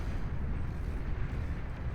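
Heavy geothermal cannon fire in the strategy game Beyond All Reason, a dense continuous low rumble of booming blasts that holds steady and loud throughout.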